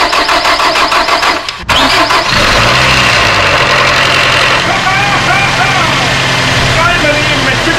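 A 2007 Nissan X-Trail engine, just back together after a head gasket replacement, cranks and catches on its first start, then settles into a loud, even idle close by, with voices over the running engine.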